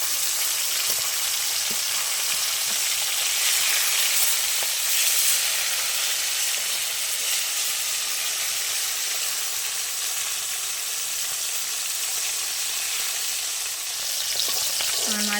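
Fish pieces crackling in hot oil after being flipped in the pan, a continuous dense sizzle with small spattering pops, close and steady, no talking.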